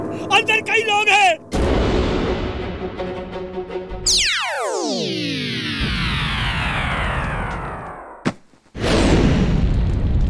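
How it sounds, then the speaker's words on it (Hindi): Firecrackers going off in a burning firecracker factory in a cartoon, loud pops and bursts followed by a long descending whistling sweep, a brief cutoff and another loud burst near the end. "अरे पटाखों की फैक्ट्री में आग लग गई।"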